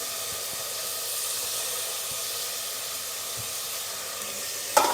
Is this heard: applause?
no